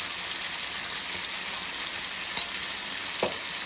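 Chicken liver seasoned with salt, chili and pepper fries in a pan over low heat, giving a steady close sizzle with a couple of brief clinks from stirring.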